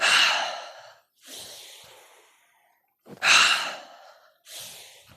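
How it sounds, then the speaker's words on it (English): Forceful breaths exhaled through the mouth during a yoga flow, four audible breaths in a slow rhythm, close and clear, with loud airy exhales alternating with softer ones and brief silences between. "exhale through the mouth on every exhale"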